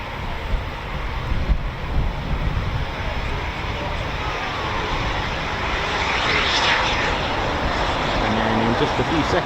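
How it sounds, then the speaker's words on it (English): Four Eurofighter Typhoon FGR4 jets over RAF Coningsby give off a steady, loud, broad engine roar that builds slightly as they pass, with wind buffeting the microphone throughout. "There's the 4 planes, just look at that, look at their movement."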